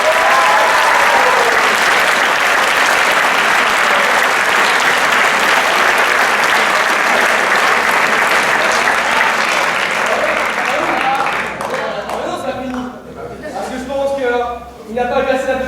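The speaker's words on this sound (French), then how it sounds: "Je pense qu'il a eu un tonnerre d'applaudissements." Loud, sustained applause from a school theatre audience after a performance of a stage play, dense clapping filling the first eleven seconds before thinning out as voices and cheers take over near the end.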